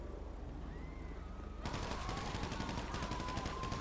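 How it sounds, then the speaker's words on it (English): Rapid automatic gunfire erupts midway through a GTA 5 police roleplay shootout on Xbox, a dense burst of shots following a quieter stretch with game ambience underneath. "I'm taking heavy fire. Oh shit, they're shooting back."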